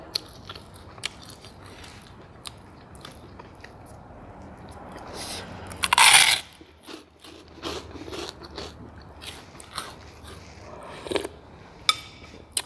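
Crispy home-fried pork cracklings are crunched while eating, with scattered close bites and chewing crackles and one loud, sharp crunch standing out midway, all without speech.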